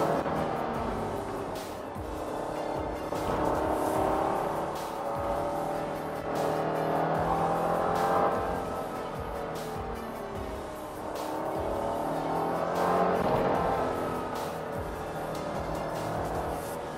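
A Honda NSX-R NA2 engine held in second gear on a drive, revving high and rising and falling in long sweeping pulls, loud and close with steady road roar underneath and no talk.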